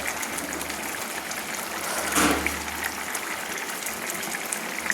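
Aloo chingri, prawn and potato curry, simmers in its gravy in a pan on a gas stove, giving a steady close hiss and bubbling with a brief swell midway.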